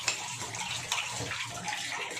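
Water pours into a pan while chicken pickle is cooked, a brief steady splashing gush that runs alone for a couple of seconds.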